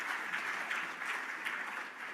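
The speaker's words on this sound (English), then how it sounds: "Applause." Applause from a conference audience after a talk at a flow battery forum, a steady dense wash of many hands, fairly faint and distant, with no voices over it.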